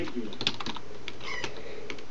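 Computer keyboard typing while entering text into HTML for a web page: a short run of quick, light key clicks in an irregular rhythm, close and fairly quiet, with no talk.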